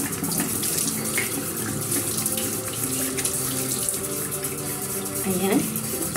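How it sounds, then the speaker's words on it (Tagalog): Tap water runs steadily into a sink for washing the face at bedtime, a continuous close splashing flow with faint background voice. "At ngayon maghilamos na tayo."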